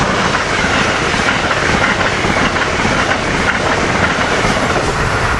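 An electric locomotive-led train (AM7 943) rushes past close by at Cornwells Heights in a loud, steady roar with rhythmic clatter of wheels on rails throughout.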